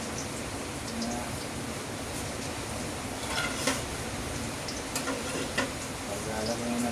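Tilapia fries in oil in a pan, giving off a dense, steady sizzle with scattered small pops and crackles, close and continuous throughout.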